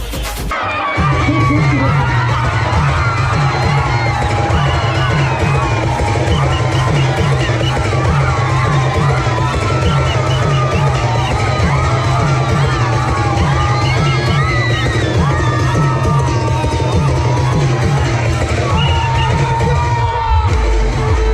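A crowd cheers, whoops and yells for a girls' dahi handi human-pyramid salute at a practice camp, a dense, loud, sustained roar with scattered shouts and occasional bangs, nearby and continuous.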